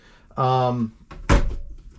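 A camper cabinet door fitted with a new latch swings shut with a single sharp thunk, just after a brief spoken word, close and clear.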